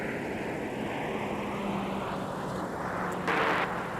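An airplane takes off from runway 12 left at Minneapolis–St. Paul airport in winter. It comes through as a faint, distant, steady roar, with a brief swell of sharper noise near the end.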